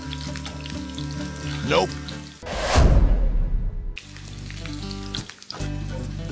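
Minced garlic sizzles and crackles in hot oil, a bright frying hiss that rises and drops as the pan is handled, with a brief spoken word.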